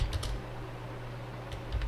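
A few soft keystrokes on a computer keyboard while entering a narration in Tally Prime accounting software, scattered in small clusters over a low background hum with no talking.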